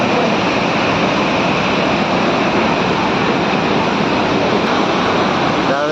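Jog waterfall roars as a loud, steady, unbroken rush of falling water filling the whole scene.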